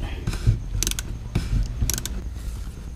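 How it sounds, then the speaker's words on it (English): A socket wrench ratchets during an oil change on a 2016 MINI Cooper S (F55), giving a few short bursts of metallic clicking at close range with no talking. "so use socket wrench"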